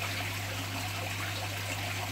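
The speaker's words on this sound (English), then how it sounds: "You can see that it's just dripping lovely down there now" Water trickling steadily into a shrimp tank during a water change, a continuous soft dribble with a low steady hum underneath.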